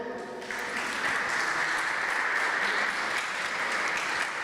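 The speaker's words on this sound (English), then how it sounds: "Give him a round of applause." Steady applause from a crowd, a sustained wash of clapping that starts abruptly and holds loud and even throughout.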